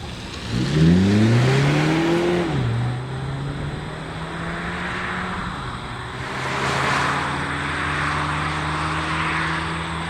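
A 2025 Hyundai Elantra Hybrid pulls away, a loud whirring drivetrain tone sliding down in pitch before settling into a steady hum over road noise as the car cruises on.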